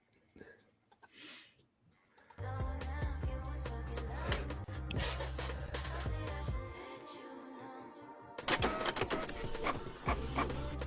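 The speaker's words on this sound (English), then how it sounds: "Why was that a printer sound effect, though?" A printer sound effect that runs for several seconds after a faint quiet lead-in: a dense mechanical whirring and rhythmic clicking, loud and steady, briefly dropping off before resuming.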